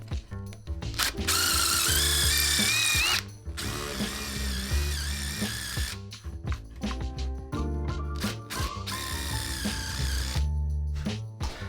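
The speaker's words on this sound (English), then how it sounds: "we're going to punch two pilot holes and we're going to go ahead and countersink them so that our screws sit flush" Power drill boring pilot holes and countersinking into board rack lumber: several loud whirring bursts of varying pitch, separated by pauses and clicks, recorded up close.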